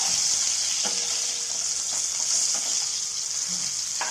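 Eggplant pieces fry in oil with salt for bharli vangi, giving a steady, close, loud sizzle with a few faint clicks underneath.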